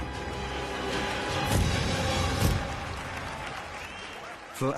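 Applause from a crowd in a courtroom, rising into louder swells midway and fading toward the end, mixed with a murmur of voices.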